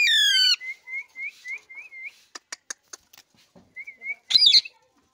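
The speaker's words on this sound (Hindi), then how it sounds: "यहाँ पे छुएगा तो कुछ ना कुछ जरूर बोलेगा मिट्टू।" A pet parrot calls, starting with a loud harsh screech, then a run of short repeated whistled chirps, a few clicks, and a final sharp squawk, close by with quiet gaps between calls.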